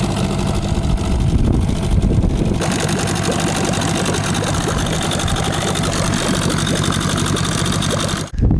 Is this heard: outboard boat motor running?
yes